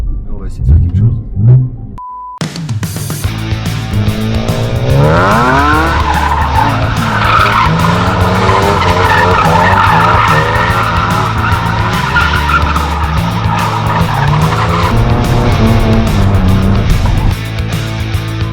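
A BMW M3 drifting around cones, a loud engine roar with sustained tire squeal and skidding that runs almost continuously after a brief spoken moment at the start.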